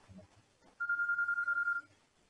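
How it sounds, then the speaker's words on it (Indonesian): A telephone rings with an incoming call, a steady electronic trill lasting about a second, fairly clear over quiet background after some faint low murmuring. "Ya, ada telepon masuk."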